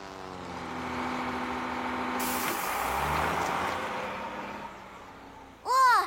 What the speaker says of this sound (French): je crois qu'il n'y a rien qui fait autant de bruit que ce camion.